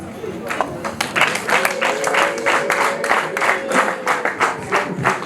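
Wedding guests break into rhythmic clapping, a dense run of sharp claps that stays fairly loud and close while voices and a sustained tone carry on underneath.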